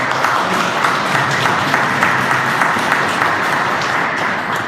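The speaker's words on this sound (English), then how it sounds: "Everybody, let's give them a round of applause." A town hall audience gives a round of applause, dense steady clapping from many hands filling the room at a constant loud level throughout, with no talk over it.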